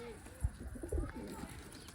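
Pigeons gathered where grain and bread are scattered for them give a few soft, low coos, faint and brief against quiet surroundings.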